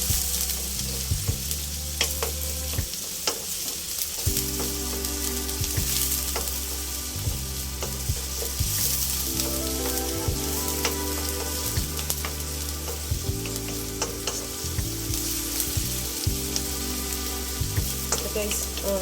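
Ginger and onion fry in a pan for shrimp fried rice, giving a steady loud sizzle broken by the repeated scrape and clatter of stirring, with no voices.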